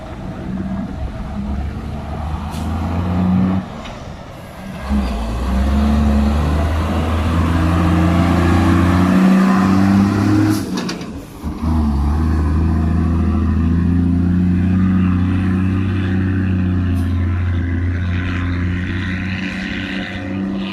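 M6 and MEGA vehicles cruise at an ordinary pace, their engines holding a steady, close low drone for about twenty seconds, with a brief dip in the hum around the middle before it resumes.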